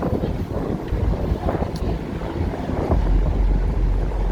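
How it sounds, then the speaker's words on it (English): Strong wind buffets the microphone while walking along Michigan Avenue in Chicago, a steady low rumble of gusts with no talk, swelling louder near the end. "it's windier on this side"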